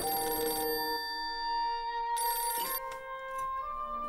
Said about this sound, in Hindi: पता नहीं किसका फोन आ गया